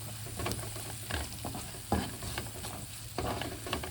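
A spoon stirs onion with coriander powder, turmeric and Kashmiri chili in a sizzling pan, giving soft scraping strokes and a few sharper knocks over a faint, steady fry.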